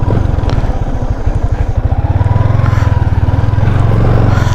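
A motorcycle engine running close by with a rapid, throbbing low putter that holds steady, then settles into a smooth idle, loud and continuous.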